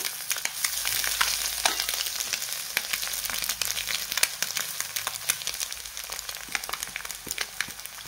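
Egg bhurji stirred with masala in a pan over low heat, a steady close sizzle broken by scattered sharp crackles and spatula scrapes, with no voices.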